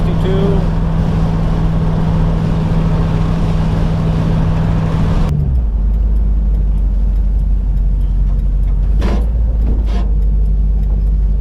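A 1965 Mustang convertible with GT options cruising at about 60 mph gives a steady engine drone and road roar from inside, which then drops to a lower rumble as the car slows, with faint thumps.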